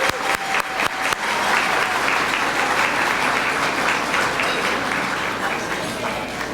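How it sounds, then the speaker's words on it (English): An audience at a high school distinguished academic awards dinner gives the parents a round of applause. Dense, sustained clapping from a large crowd fills the room evenly for several seconds. "So a round of applause for our parents,"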